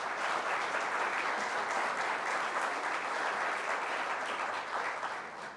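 A steady, even round of applause from an audience at a citizen meeting presentation, continuous and moderately distant, tapering slightly at the end.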